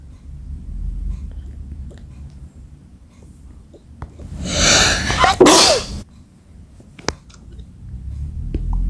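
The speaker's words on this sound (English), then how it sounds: "Oh, why did I have to sneeze at this time?" One loud, close sneeze bursts out midway, a sharp breathy explosion in a quiet room, with soft handling noises and breathing around it.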